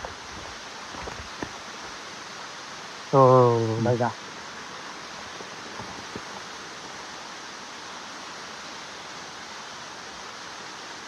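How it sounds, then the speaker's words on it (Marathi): Powerful waterfall in the mountains, a continuous, even broadband roar filling the scene throughout, with someone briefly speaking over it partway through. "खतरनाक असा धबधबा चालू आहे."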